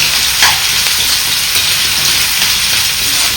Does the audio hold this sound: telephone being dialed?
no